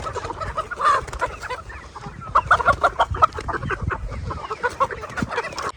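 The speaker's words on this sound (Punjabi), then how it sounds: "ਮਿੱਤਰੋ ਮੁਰਗੀਆਂ ਤਾਂ ਛੱਡਤੀਆਂ ਸਾਰੀਆਂ ਬਾਹਰ" Desi chickens clucking nearby on a free-range farm in a busy, irregular chorus of short calls, fairly loud and continuous with no voices.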